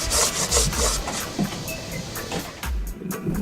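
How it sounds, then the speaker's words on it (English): Close, steady scraping and rubbing strokes as worn-away bottom paint and marine growth are scraped off a sailboat hull, with repeated rough strokes and no talking. "Our bottom paint is now completely worn away, so scraping the crap off is a major task."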